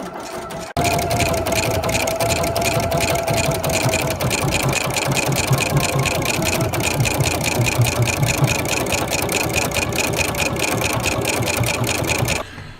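A computerized sewing machine runs a programmed embroidery design in a workshop, giving a steady, close mechanical whir with fast even needle clatter that runs unbroken for about twelve seconds.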